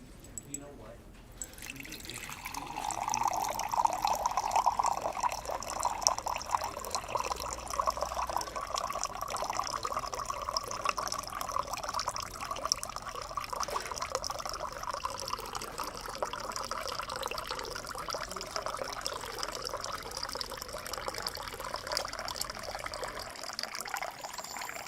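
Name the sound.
water running from a tap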